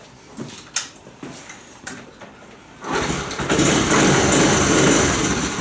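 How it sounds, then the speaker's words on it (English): A postie motorbike clicks and clunks a few times before its engine catches at about three seconds, then settles into a loud, close, steady running drone. "I'll start the bike up, and you can see it in action."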